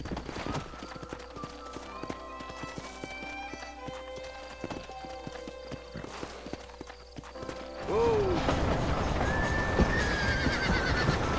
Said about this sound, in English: o cavalo tá meio incontrolável aqui